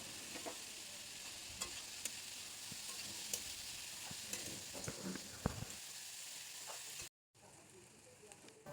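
Carrot, beans and capsicum fry in a pan with salt while a spatula stirs them. The sizzle is quiet and continuous, broken by scattered scraping clicks, then briefly cut off near the end.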